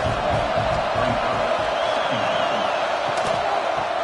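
Stadium crowd noise from a PS5 college football game featuring the Gators on third down, a steady roaring wash of cheering and murmur with scattered whoops, sustained throughout.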